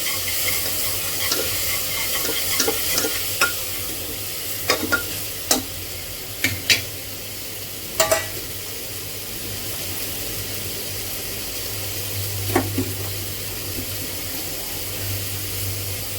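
Capsicum stir-fried in a pan, a steady low sizzle broken by scattered clinks and scrapes of a spatula against the metal, close by with no talking.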